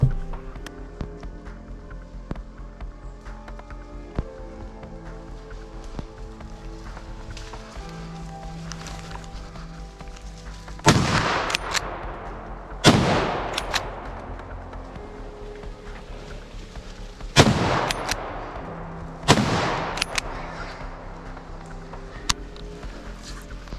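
Hunting rifle shots fired at a large group of wild boars in the woods, four loud sharp cracks with ringing decay, spaced a few seconds apart over a quiet outdoor background.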